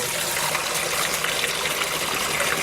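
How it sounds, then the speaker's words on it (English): Cold water from a tap runs steadily into a bowl, a continuous loud gushing rush with no breaks and no talk. "Some cold water. Fill it up. About halfway."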